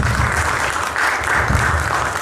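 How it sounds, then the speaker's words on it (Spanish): Loud, dense applause from an audience welcoming an engineer, a continuous close roar of many hands throughout. "les solicito lo recibamos con un fuerte aplauso"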